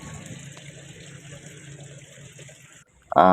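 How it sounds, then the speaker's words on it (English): Water runs steadily from a faulty washing machine inlet valve that will not shut off, a continuous splashing hiss that stops briefly before a sharp louder noise at the end. "You can see the water is continuously falling and it's not stopping at all."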